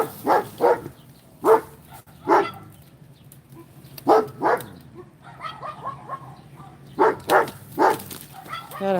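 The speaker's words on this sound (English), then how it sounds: "Got a whole neighborhood of barking dogs now." Dogs in a neighborhood bark in scattered single and double woofs at a middle distance, some yips and whimpers between, over a quiet outdoor background.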